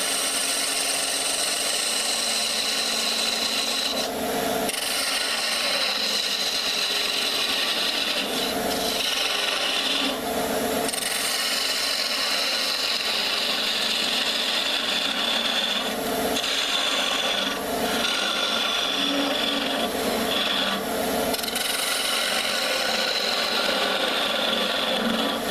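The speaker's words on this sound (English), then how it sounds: "I'm going to take my little scraper and I'm going to remove a bulk of wood right here." A small scraper removes wood from a spinning top turning on a lathe, giving a continuous loud rasping, rubbing scrape with brief dips and swells as the tool is repositioned, over the lathe's steady hum.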